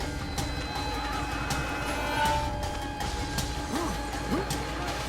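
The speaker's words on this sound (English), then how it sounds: "glass shattering, so they're probably breaking through something" Glass shatters somewhere in the horror video game Outlast 2, sharp crashing breaks scattered over steady game ambience and background noise, moderately loud without speech.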